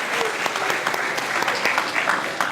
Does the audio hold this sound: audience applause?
yes